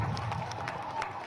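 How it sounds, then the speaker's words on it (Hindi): A crowd at an outdoor campaign gathering in New Delhi claps to welcome BJP candidate Bansuri Swaraj, steady applause with scattered cheering and a hum of voices underneath. "जोरदार तालियां बजा के एक बार बहन बांसुरी स्वराज जी का स्वागत करेंगे।"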